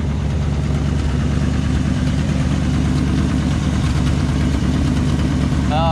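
Old 1965 Ford F250 truck engine idling steadily, a continuous low rumble that holds level throughout, with a brief faint squeal near the end.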